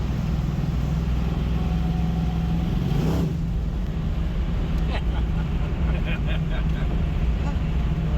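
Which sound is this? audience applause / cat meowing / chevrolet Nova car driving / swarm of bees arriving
chevrolet Nova car driving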